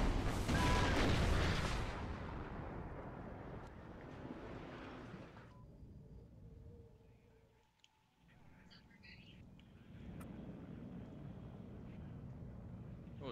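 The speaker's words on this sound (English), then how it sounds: "Oh, they're shooting at you, I think." Gunfire and artillery rumble in the Warno wargame, starting as a loud, dense boom that fades into a lower, continuous background drone with scattered faint shots and occasional voices.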